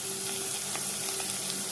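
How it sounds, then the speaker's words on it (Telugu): Onions fry with a garlic and coriander paste in a hot pan, producing a loud, steady, close sizzle that runs without a break. "స్టవ్ లో ఫ్లేమ్లో పెట్టి ఫ్రై చేసుకుందాం."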